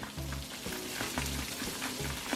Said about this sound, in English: Now I'll throw that side down on the griddle right here.